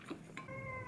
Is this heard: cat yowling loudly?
yes